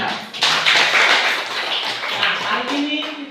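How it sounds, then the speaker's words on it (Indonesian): Children in a classroom break into brisk group clapping that starts abruptly and runs for about three seconds, with a voice coming in near the end. "tepuk tangan untuk anak-anak"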